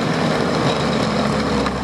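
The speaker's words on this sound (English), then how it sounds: "it's gonna be my first ever snowmobile trip" A snowmobile engine drones steadily and loudly through a ride, a dense continuous mechanical roar with no breaks and no voices.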